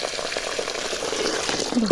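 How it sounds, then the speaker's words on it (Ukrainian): Cold water pours over washed cucumbers set aside for pickling, a continuous splashing, hissing flow of moderate loudness. "Я їх перемила, раз зараз холодною водою наливаю і хай стоять."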